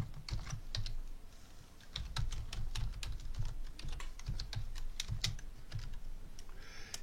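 Rapid typing on a computer keyboard, steady clusters of close, crisp key clicks for several seconds with brief pauses, while a lesson name is entered in Moodle.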